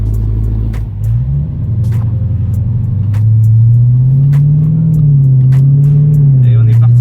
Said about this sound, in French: Sonorité au ralenti là des gros V8 américains.